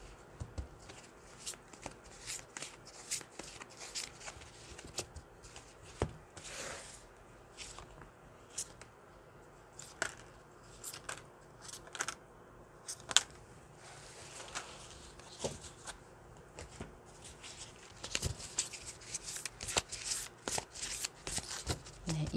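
Tarot cards are shuffled with quick, soft riffling and patting flicks repeating steadily throughout, fairly quiet and close.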